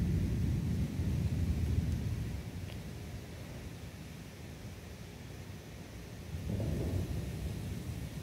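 Deep thunder from a severe July thunderstorm in southeastern Pennsylvania rumbles low and distant, a continuous broad roll that eases and then swells again, with steady noise of weather underneath and no talking.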